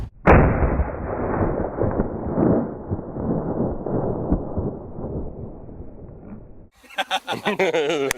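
A hunting rifle shot on a South African bush safari, a single loud close report at the start followed by a long rumbling decay, with a brief burst of excited voices near the end.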